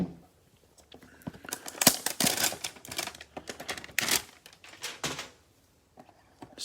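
Foil packs of Chronicles basketball trading cards being torn open, close crinkling and ripping bursts in irregular succession with short quiet gaps between them, no speech.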